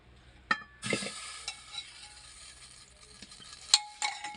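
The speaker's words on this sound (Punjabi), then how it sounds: "ਹੁਣ ਆਪਾਂ ਇਹਦੇ ਵਿੱਚ ਘੀ ਐਡ ਕਰ ਲੈਨੇ ਆ" Ghee hits a hot pan while making suji halwa: a couple of sharp metallic clinks, then a steady, close sizzling hiss that carries on, with another clink near the end. No one speaks.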